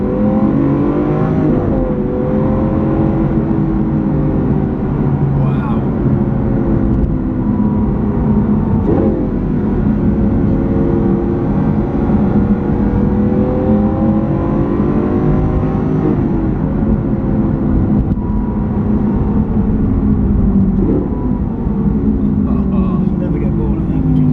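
A Lamborghini Aventador with its sports exhaust on, driven on the road and heard from inside the cabin, its loud engine revving and shifting in repeated rising surges, with a voice talking over it.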